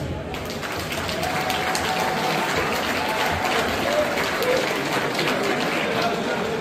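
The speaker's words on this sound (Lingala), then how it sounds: "De nouveau, vous pouvez les applaudir." An audience claps for a couple at a ceremony, producing a dense, sustained wash of applause that stays loud and even from start to finish, with faint voices mixed in.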